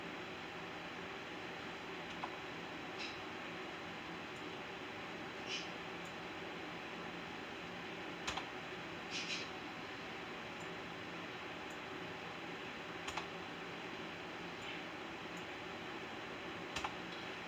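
A few sparse, faint key presses on a computer keyboard click over a steady background hiss of fan-like noise, with long quiet gaps between taps.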